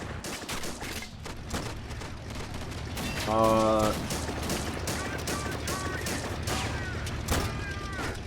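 Browning machine gun fire rattles through a battle in the Army Men video game, a dense spread of rapid bursts and booms with a loud, sustained stretch midway and voices underneath.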